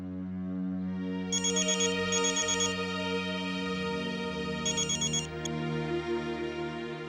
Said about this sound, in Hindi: अटेंड कीजिए फोन।